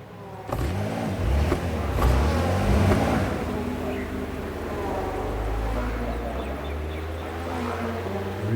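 Race car in the GT Manager game, a GT3 machine, sweeps past with a rising then steady engine roar that stays loud and close for several seconds, with faint talk underneath.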